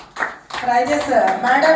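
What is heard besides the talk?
audience clapping at anniversary celebration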